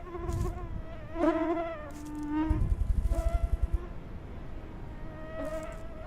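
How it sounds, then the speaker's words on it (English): Mosquitoes whine in the BULT hunting video game, a thin, high, wavering buzz that swells and fades as they pass near, with a short burst of low, rapid pulsing partway through. "Yeah, man, it's mosquitoes."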